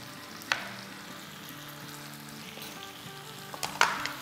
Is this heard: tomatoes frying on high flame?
yes